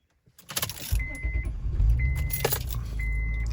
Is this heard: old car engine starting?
yes